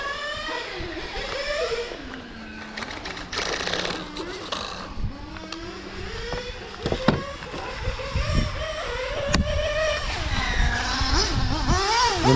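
A small high-pitched nitro RC car engine, an OS Speed R21 GT in a GT8 car, buzzes and whines, revving up and down repeatedly, fairly close, with occasional sharp bursts.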